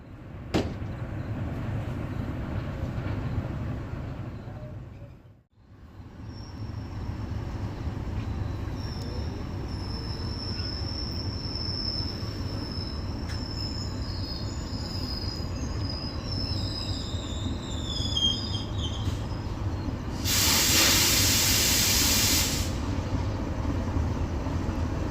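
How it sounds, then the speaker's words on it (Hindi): Pakistani 32 Down Jinnah Express led by a GU40 locomotive rolls past close by, with a steady rumble of wheels, high squealing and a sudden loud horn blast near the end. "अब डाउन लाइन पर हमारे पास आ रही है पाकिस्तान की नंबर 1 ट्रेन यानी कि 32 डाउन जिना एक्सप्रेस जिसकी लीड पर लगा हुआ है GU40"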